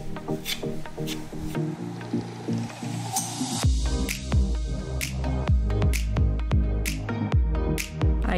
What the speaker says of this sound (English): using the putty knife, I'm just gonna be applying it